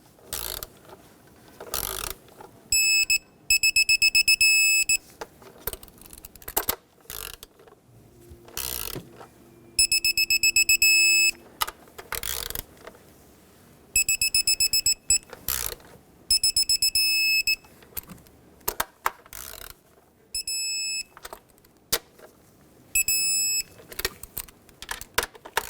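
A ratchet tightening valve cover bolts on a 2008–2020 Dodge Grand Caravan: repeated bursts of fast, close clicking separated by short pauses and handling noises, with no talking.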